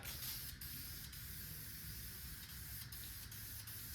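A spray gun or aerosol coats a rusty part inside a garage paint booth on a cold night: a steady, close, loud hiss of spraying with a few short pauses between passes, no talking.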